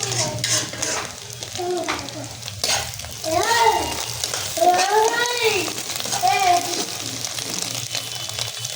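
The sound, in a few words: noodles being stirred and cooked in a pan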